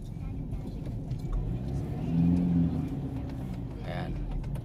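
A tricycle motor vehicle passing on a road, an engine rumble that swells and fades with a brief whirring rise, alongside other traffic noise.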